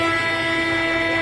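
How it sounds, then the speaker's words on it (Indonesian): An electric locomotive's horn gives one loud, steady blast that holds through the whole moment, with no talking over it. "Coba kita dengarkan suara klaksonnya seperti apa ya"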